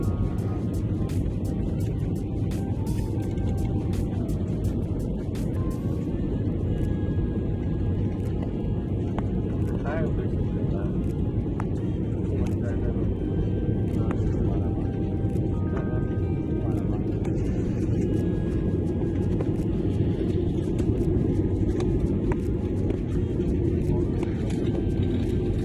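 Airplane touching down on the short runway at Leh in the Himalayas, a loud continuous roar of engines and rumbling braking heard from inside the cabin, with a voice talking over it throughout.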